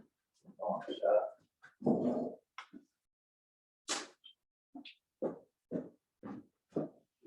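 A puppy gives short whimpers and yips in scattered bursts, mixed with people talking nearby; the sounds come and go with gaps between them.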